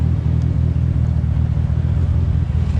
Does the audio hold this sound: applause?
no